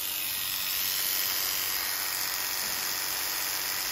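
Electric hair clippers buzz steadily close by through a lesson in cutting hair, a constant high, even whine with no breaks and no talk over it.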